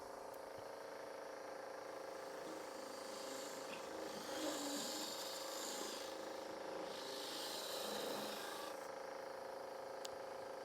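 Wood being back hollowed on a lathe with a large spindle gouge, a steady close scraping, rasping cut over a constant spinning hum, the cutting noise swelling in two longer passes.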